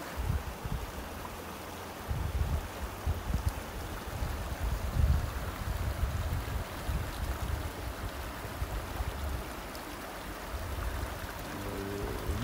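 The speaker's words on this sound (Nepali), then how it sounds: "यहाँको खोलाको पानी पनि यसो चाख्नु पऱ्यो" A mountain stream in the Rocky Mountains flows with a steady, broad rushing wash of water, continuous and fairly close, with no voices.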